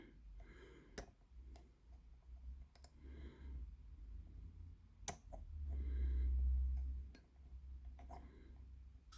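Crisp, faint clicks of a disc detainer pick turning discs inside a Zarker 45JS lock, a few scattered sharp ticks close up over a low background hum.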